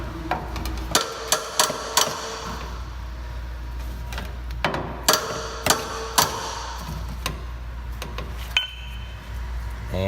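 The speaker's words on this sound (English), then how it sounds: "so I'm just gonna take a hammer again and tap it forward." Hammer taps on a Honda Ridgeline quarter panel during bedside alignment work: a dozen or so sharp metallic knocks at uneven intervals, some grouped in quick pairs, close and fairly loud over a low steady hum.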